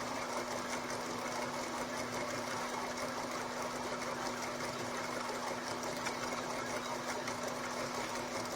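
Homemade SEG machine running with its loose, unattached coils firing and bouncing against the rollers, a continuous rapid mechanical rattle over a steady electric hum, moderately loud and unbroken, with no talking.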